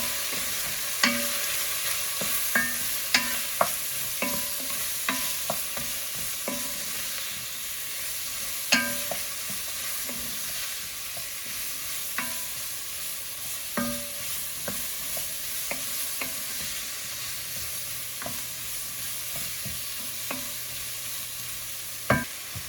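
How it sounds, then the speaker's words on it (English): Vegetables with Cajun seasoning sautéing in a pot, a soft steady sizzle with frequent scraping and tapping of a spoon stirring, heard close and alone. "you're going to saute that until it gets fragrant"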